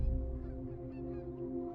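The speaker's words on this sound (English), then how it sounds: "we hear geese in the distance" Geese honking far off outdoors, a faint, steady low call with no voices over it.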